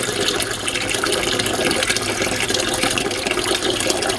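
Water gushes steadily from a kitchen tap into a container during a faucet installation and plumbing repair, a loud, continuous, close rushing with no voices.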